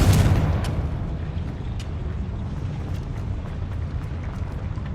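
A Confringo fire spell blasts in Hogwarts Legacy, a loud booming explosion at the start that decays into a rumbling tail, followed by scattered crackling pops and debris sounds.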